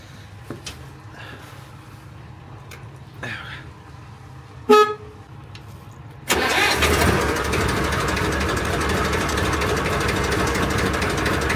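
A used Turbomatic 32 machine: a few light clicks, a short horn toot, then its engine starts abruptly and settles into a loud steady close idle for the rest of the clip.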